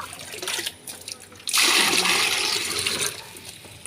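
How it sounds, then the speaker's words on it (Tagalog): Tap water rushing into a container to mix a plant-watering solution, a steady close splashing pour that starts abruptly after a few faint knocks and runs on without talk. "Lagyan natin, punuin natin ng tubig"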